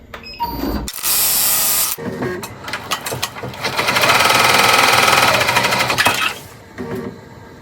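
Embroidery machine stitching out the first step of an in-the-hoop glittered bag tag design, a loud, steady mechanical whirring with brief pauses and starts, rising to a sustained fast run in the middle before slowing near the end.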